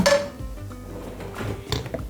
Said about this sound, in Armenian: Դնում ենք տապակը